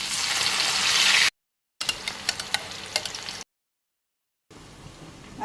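Boiled jackfruit goes into a hot pan for a meatless curry, giving a short hiss of frying followed by a run of sharp stirring clacks, broken by silent gaps, with no voices.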